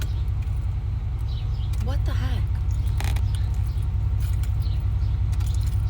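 An old red GMC farm truck engine runs steadily with a heavy low rumble that won't shut off, while a person talks over it and a brief squeaky sound rises near the middle.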